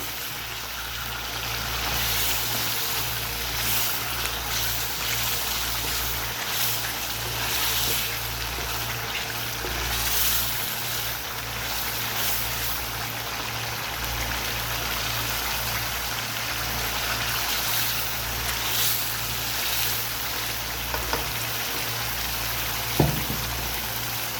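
White mutton karahi sizzles steadily in a pan, a continuous frying hiss with crackle throughout and an occasional sharper clink near the end, with no talking.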